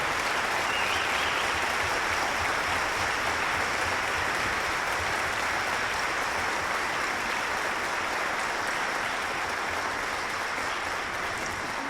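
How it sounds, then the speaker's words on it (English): Sustained audience applause fills a veterans concert hall, a dense, steady wash of clapping from a large crowd that holds evenly loud for about twelve seconds with no voices on top. "So would you give him a round of applause"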